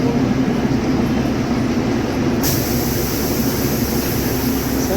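The Bilimora–Waghai narrow-gauge train at the station, a loud steady rumble and hum of the train close by, continuous throughout with no talk.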